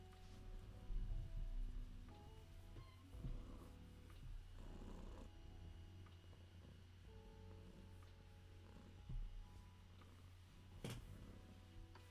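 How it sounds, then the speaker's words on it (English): Low, steady cat purring runs through the whole stretch, soft and close, with a few faint thumps and rustles over it. "Oh, such loud purrs."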